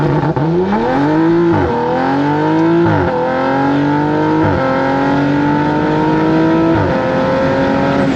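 A Stage 2 Audi RS5 revs hard on launch control, its engine climbing loud and close through a series of quick upshifts, each one dropping the revs before they rise again.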